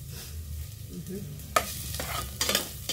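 Garlic and ginger sautéing in a pan for Filipino chicken tinola, cooked outdoors, with a steady low sizzle, the spatula stirring and scraping against the pan in a few sharp bursts.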